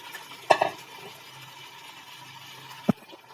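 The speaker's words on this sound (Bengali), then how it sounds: "মশলাগুলো দেওয়ার পর আমি এবার নেড়ে ছেড়ে নেবো ভালো করে।" Chicken biryani with spices being stirred in a pot, a soft sizzle underneath with a few sharp scrapes and clinks of the utensil against the pot, close up.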